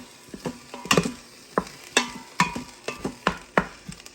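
Ground beef browning in an Instant Pot with onion, with soft sizzling broken by a series of scraping, clinking stirs from a utensil, fairly close and without talk.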